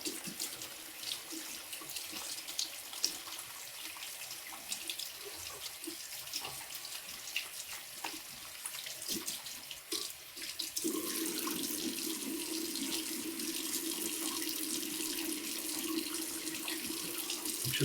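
Running tap water rinses leftover shaving-soap lather out of a shaving brush at a sink, a steady close splash that turns fuller and louder partway through.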